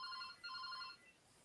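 A mobile phone ringtone rings faintly, with two short bursts of a bright, bell-like electronic trill separated by a brief gap, playing alone with no voices.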